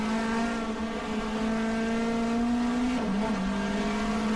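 Race car in GTR2, a 1994 Australian Manufacturers Championship round at Phillip Island, holds a steady loud engine drone, then its pitch drops sharply as the driver downshifts to second gear; no voices.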